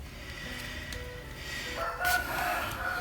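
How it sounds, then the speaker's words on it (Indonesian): Several roosters crow on a morning, their calls rising and falling in the mid distance over a steady outdoor background, with no talking. "banyak banget ayam-ayam yang berbunyi ya"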